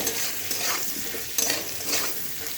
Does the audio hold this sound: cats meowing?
no